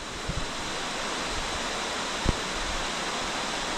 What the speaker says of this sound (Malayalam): മഴ കണ്ടോ? പെരുമഴ.